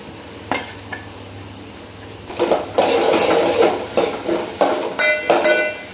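Onion, tomato, potato and green chilli are tossed into hot tempering for seasoned rice, setting off a loud sizzle with scraping and clanking of a spoon against the pot in uneven bursts.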